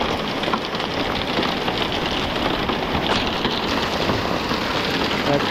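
Hailstones pelting down steadily during an outdoor hail storm, a dense, continuous rattle and patter that stays loud and unbroken throughout.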